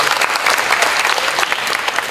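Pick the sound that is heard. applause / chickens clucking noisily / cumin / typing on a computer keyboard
applause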